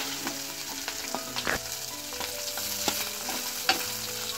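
Dried fish fries in coconut oil over a low flame, a soft continuous sizzle broken by several sharp scraping stirs and clinks of a utensil against the pan, heard up close with no talking.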